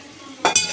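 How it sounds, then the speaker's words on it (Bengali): Onion and garlic fry in a pan for a fish curry, with two brief sizzling bursts of stirring over quiet background hiss. "দেখো পেঁয়াজটা রসুনটা ভাজা ভাজা হয়ে গেছে।"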